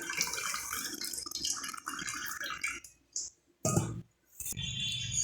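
Water drips and trickles from cooked chana dal held in a slotted spoon while puran poli is being made. The splashing is soft and close and comes in short bursts with brief silent gaps.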